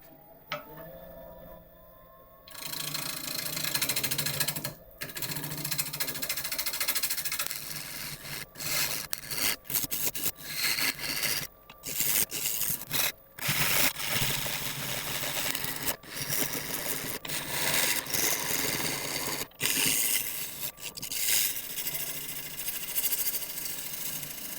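Greenheart wood spinning on a lathe while a tool cuts it, giving a rough, scraping, chattering noise in uneven bursts with brief pauses, loud and close with no talking.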